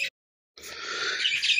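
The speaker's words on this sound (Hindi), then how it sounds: "सुबह सुबह चिड़िया के चिड़चिड़ाने की आवाज़ आपकी आ रही होगी।" Morning birds chirping, a short call followed by a steady, busy stretch of bright twittering after a brief silence, fairly close and alone without talk.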